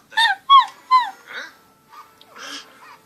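A dog gives a run of high, wavering puppy-like whimpers and whines, three clear cries close together followed by softer, breathier whines, near and fairly loud, with no talking.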